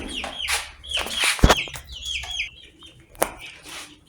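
Free-range Indonesian village chickens (ayam kampung) clucking nearby, with bursts of overlapping calls, a sharp squawk and a brief flutter of wings, all without any talking.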